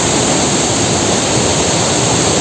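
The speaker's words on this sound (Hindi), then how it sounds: "मैं एकदम एज पे हूँ जहाँ से ये झरना गिर रहा है, ये वाटरफॉल।" The Gasumo waterfall in Mwaro, Burundi, heard from its edge as a loud, continuous roar of falling water that fills the sound with no break or talk.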